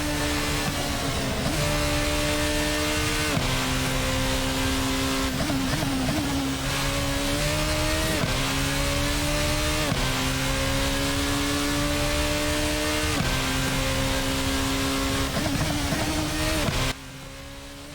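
A formula race car engine in a sim racing game screams loudly and steadily, revving up through the gears with sharp rising pitch sweeps and brief dips at each shift, with no talking.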